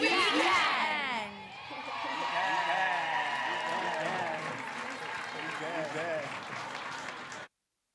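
Audience applause with scattered cheers and whoops follows multilingual stage performances at a Kovsies multilingual event, starting loud, dipping briefly, then continuing as sustained clapping for several seconds before stopping.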